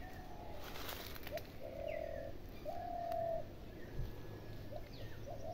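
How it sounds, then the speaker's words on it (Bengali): Pigeons or doves coo repeatedly in a garden, several soft mid-pitched calls spread across the stretch, fairly close, with faint chirps and outdoor background hiss and no talking. "পাখি ডাকছে কি সুন্দর।"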